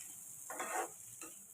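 Poppy seed paste drops into fried onions in a hot pan, giving a short, faint sizzling burst followed by a smaller crackle, against quiet background hiss.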